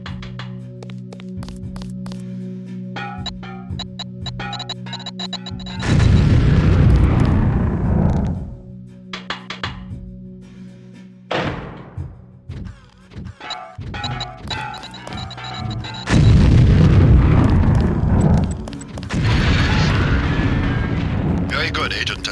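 A LAM proximity mine detonating during demolitions training in the PS2 video game Deus Ex: two heavy, roaring explosions with long rumbling tails, separated by thuds and mechanical clatter, alongside a steady hum of game ambience.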